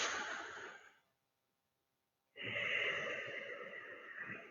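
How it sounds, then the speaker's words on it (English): Slow, deep belly breathing during a qigong session for stress relief: a long exhale, then about a second of silence, then a drawn-out breath, close and fairly loud with no talking. "Let's take some deep breaths."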